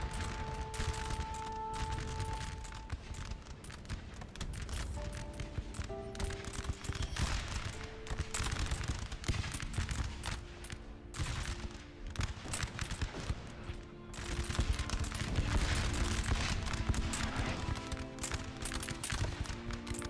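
Musket gunfire during a Napoleonic-era battle in the Napoleon Total War video game: dense, continuous crackling volleys, with shots layered on top of each other and swelling louder toward the end. No one talks over the firing.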